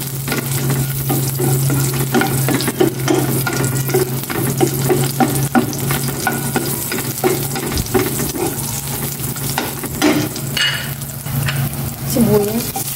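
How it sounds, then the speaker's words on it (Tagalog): Pechay and sardines fry in a pan with garlic, a steady loud sizzle running throughout while a utensil stirs and scrapes in irregular bursts close by, with no talk. "Lulutuin ko na itong pechay with sardinas."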